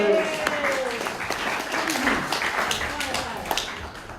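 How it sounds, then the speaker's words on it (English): A community meeting audience applauds a police sergeant called to the microphone, a steady wash of clapping with scattered sharper claps, fairly close and sustained, with voices mixed in. "Big round of applause"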